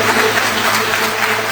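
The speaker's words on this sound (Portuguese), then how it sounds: "Vamos dar uma salva de palmas para o Senhor Jesus," A church congregation applauds for Jesus during a worship service. The clapping is dense, steady and continuous, filling the room for a brief stretch with no voices on top.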